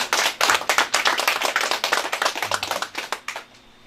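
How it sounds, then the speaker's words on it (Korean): A church congregation at a Korean presbytery founding and thanksgiving worship service breaks into vigorous applause, dense rhythmic clapping from many hands in a room, fading out toward the end. "감사의 그 의미로 힘차게 박수 한번 올려드리겠습니다."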